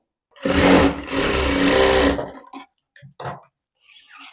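A sewing machine runs in one steady burst of close, fast stitching through blouse fabric for about two seconds, then stops, followed by a few short handling knocks.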